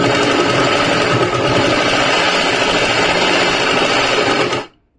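A sewing machine stitches a lined suit in a continuous fast, rhythmic whir, loud and close, then stops abruptly near the end.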